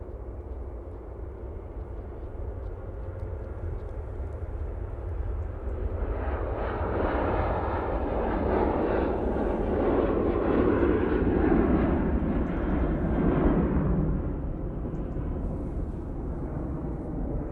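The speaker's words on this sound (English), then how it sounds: "Ryanair 737-800." A Ryanair Boeing 737-800 takes off at Manchester Airport, its engine roar swelling from a distant rumble to a loud, broad mid-clip peak before fading back, heard from outside with no talk.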